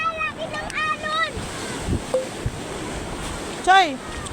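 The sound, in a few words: big ocean waves crashing on a beach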